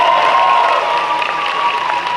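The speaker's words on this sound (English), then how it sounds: "Can we get a round of applause for these guys" Convention crowd at a furry convention opening ceremony giving a round of applause, a dense steady wash of clapping with faint cheering, fairly loud throughout.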